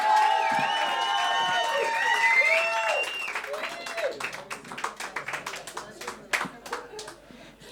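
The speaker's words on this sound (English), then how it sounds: "So, start clapping at the back, Anya. Start clapping." An audience at a stage event welcomes a performer with sustained clapping and some cheering, dense at first and thinning into scattered claps, with a singing or announcing voice over the start.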